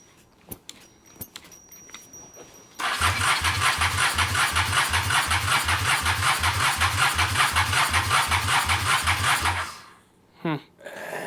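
A carburetted vehicle engine cranking without starting, about seven seconds of rhythmic starter-motor chugging after some clicks, then stopping, with a brief voice at the end.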